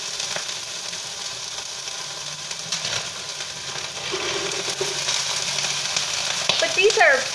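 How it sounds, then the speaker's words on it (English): Frozen bell pepper strips sizzle and spit on a hot griddle, a steady crackling fry that grows a little louder toward the end, with a faint scrape near the close. "I have this griddle going nice and hot, and I'm going to go ahead and drop these in. And they're frozen, so they're going to spit a bit."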